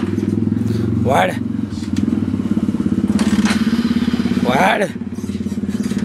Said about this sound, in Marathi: दत्ताबाईची बाईक आहे, चालूच होत नाहीये